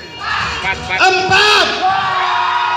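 A crowd at an office prize draw for a mountain bike bursts into whoops and yells, loud and close, with shouting voices rising over a number being called out.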